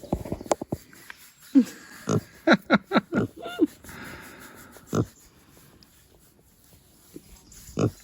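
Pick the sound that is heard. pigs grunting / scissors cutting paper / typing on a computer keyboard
pigs grunting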